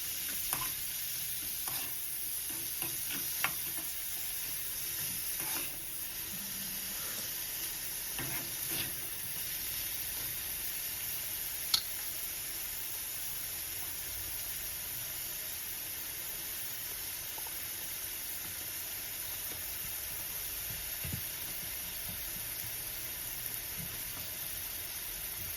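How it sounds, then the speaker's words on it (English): Saltfish fritters fry in hot oil in a pot, a steady sizzle and hiss running continuously with a few faint clinks, with no one talking. "I'm leaving that to fry while my saltfish and seasoning are cooking up for the ackee."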